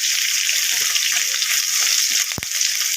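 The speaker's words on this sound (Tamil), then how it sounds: "வெங்காயம் லைட்டாக வதங்கிடுச்சு" A medium-sized onion sizzles steadily in a hot pan for karamani sundal, a bright crackling hiss, with a brief clunk of a utensil near the end.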